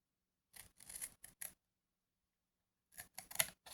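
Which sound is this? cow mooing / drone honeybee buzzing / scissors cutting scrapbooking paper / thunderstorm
scissors cutting scrapbooking paper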